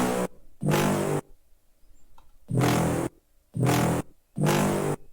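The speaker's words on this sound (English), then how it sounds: "And this is just a sample distorted with some bit crush." A brass stab sample, distorted and bit-crushed in FL Studio Mobile, hits four times as short, gritty, buzzy blasts separated by gaps, fairly quiet and with no talking.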